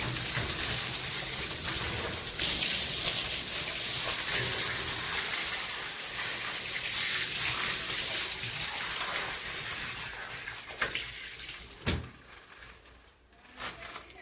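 Steady rushing water pours and splashes continuously for about ten seconds, then the flow stops, leaving a few clunks and quieter dripping sounds.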